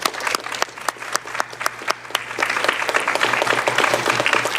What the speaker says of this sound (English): let's give a hand of some clapping hands for the various people who have contributed here tonight